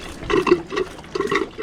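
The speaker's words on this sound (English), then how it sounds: "showing you her dirty shower water" Dirty shower water draining from a wooden boat under restoration, a close, steady gurgling splash that swells and eases in uneven pulses.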